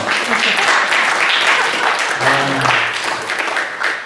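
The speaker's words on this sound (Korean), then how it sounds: "박수 한번 쳐보세요." Church congregation applauding during a Sunday sermon, a dense, steady wash of clapping from many hands that holds evenly for the full span, with a faint low voice briefly beneath it.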